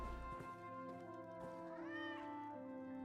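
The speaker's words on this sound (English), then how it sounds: "It even meows." A Mages Guild Sentry cat non-combat pet meows in Elder Scrolls Online, Morrowind chapter, a soft rising-falling cry over sustained game music, with no talk.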